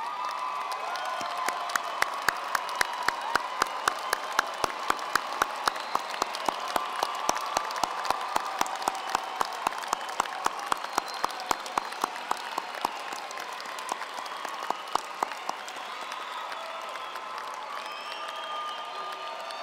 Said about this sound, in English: And will our graduates please applaud these people?